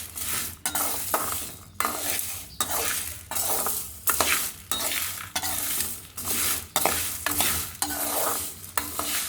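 Spices and curry leaves sizzle in a hot pan for a curry-leaf spice powder, under steady rhythmic stirring with a spoon scraping the pan every second or so. The sound is close and busy, with no talking.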